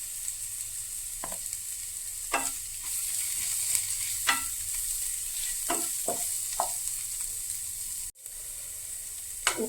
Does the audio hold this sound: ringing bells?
no